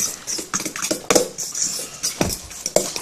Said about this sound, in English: all you do is just whisk them together